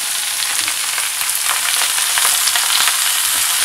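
Stir fry sizzles loudly in a very hot pan while being tossed, a dense, continuous hiss of frying with soft scrapes and shuffles of food moving, close up and without talk.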